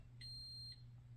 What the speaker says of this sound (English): when you hear the beep and it's done, you don't want to take it away right away